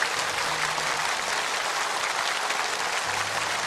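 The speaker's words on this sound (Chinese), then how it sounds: "让我们再次把掌声送给周警官" A studio audience at a televised variety gala claps in a sustained, even wave of applause that fills the room throughout, with no speech over it.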